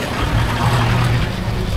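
Road traffic at a stoplight near Bulacan State University, a steady dense rumble of car, truck and bus engines close by with a low idling drone, no clear speech.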